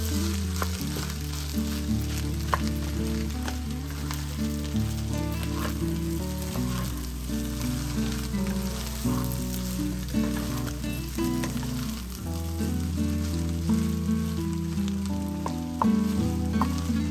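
Onions and onion leaves fry for fried rice in a pan, a loud, continuous hiss and sizzle with occasional stirring scrapes, heard alone over steady background music.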